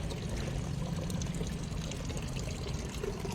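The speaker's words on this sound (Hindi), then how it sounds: "और ये मैं पानी भर रही हूँ।" Water being poured into a container at home, a soft steady splashing and gurgling stream that runs continuously without pause.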